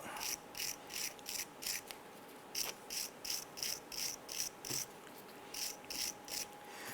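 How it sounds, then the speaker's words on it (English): A wire brush scrubs rust off the brake caliper pins during a front brake job on a 2008-2013 Nissan Rogue. It makes quick, rhythmic, steady scratching strokes with a short pause midway and no talking. "Simply use your wire brush, clean that up."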